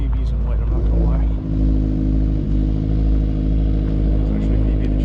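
A Volkswagen bus engine idles just after starting at an outdoor boxer-engine car show, a loud nearby rumbling exhaust with steady low throb, with a voice talking over it.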